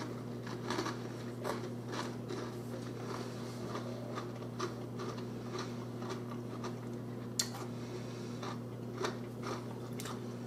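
Crunchy cookie being bitten and chewed, giving repeated crisp crunches at a steady rhythm, close and fairly quiet over a constant low electrical hum.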